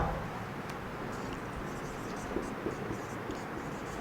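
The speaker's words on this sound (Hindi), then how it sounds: "अब देखिएगा यहां मैं प्रश्न लिख रहा हूं" A hand writes out a question, a faint, continuous scratching that sits under a steady background hiss.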